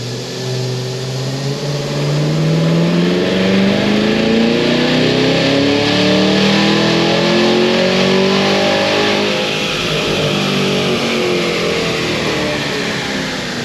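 800 hp Cadillac Escalade V accelerating hard on a speed run, its loud engine note climbing steadily through the gears in a continuous, sustained roar with no talking.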